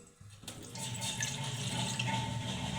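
A full cup of water is poured into a pot for making tea, the splashing stream starting abruptly after a brief pause and running steadily and fairly close to the end.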